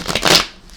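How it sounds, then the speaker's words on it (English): A deck of tarot cards being shuffled by hand, a brief papery riffle that swells to a crisp peak and then fades, close and alone with no talking. "I shuffle it 3 times in a row"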